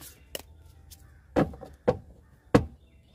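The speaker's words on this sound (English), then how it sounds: "And there's 5 crows going by right now," Five crows flying past outdoors, cawing in several loud separate calls spaced irregularly, with quiet background between them.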